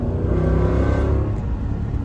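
Ram 1500 pickup with dual exhaust, universal mufflers and resonator delete gives a loud, raspy, steady rumbling drone close by, holding at a constant engine pitch throughout.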